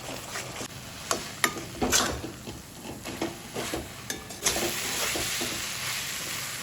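Chicken pieces being sautéed in spiced oil in a pan, a steady close sizzle with repeated scraping stirs and light clinks from the utensil, the frying getting louder and denser toward the end; no one speaks.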